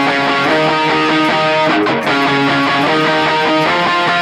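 An electric guitar plays a repeating octave line, bright and sustained with steady rhythmic note changes, loud and close with no talking.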